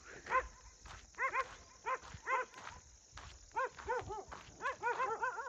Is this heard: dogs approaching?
yes